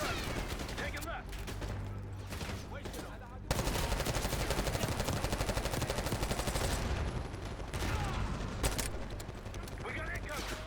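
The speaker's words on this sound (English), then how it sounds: "Return fire!" Rapid bursts of automatic gunfire and single shots crack loudly and almost continuously during a Call of Duty Black Ops 6 campaign firefight, with voices shouting underneath.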